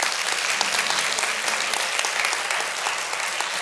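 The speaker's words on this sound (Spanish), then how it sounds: "Le damos un aplauso a esta gente, por favor." A church congregation bursts into sustained applause, a thick, even wash of many hands clapping that fills the room and holds steady at strong level without a break.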